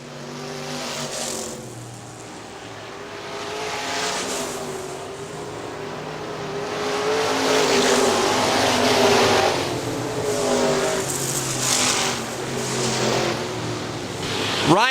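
IMCA modified race cars roar around the Hartford Speedway Park dirt oval in Michigan, engines swelling and fading continuously as a pack battles down the back straightaway, loud and close, with a commentator's voice running over the din.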